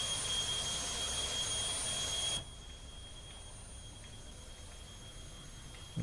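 Steady broadband jet engine roar with a high whine as an aircraft taxis out toward the runway, loud for about two seconds and then dropping to a quieter continuous hum with no talk.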